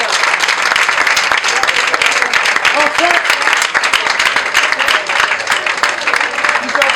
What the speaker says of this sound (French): Je vous demande de les applaudir très chaleureusement